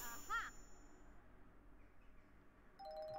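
A bell chimes in Princess Peach Showtime, one bright ringing ding near the start fading into quiet game ambience, with a second faint tone near the end.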